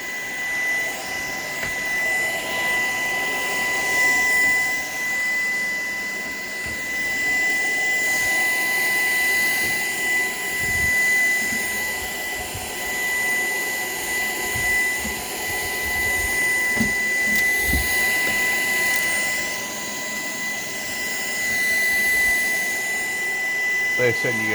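A Shark PowerDetect vacuum cleaner runs steadily and close, a loud continuous whine and airy roar with a high tonal hum, with occasional rattles and thumps as it moves across the floor.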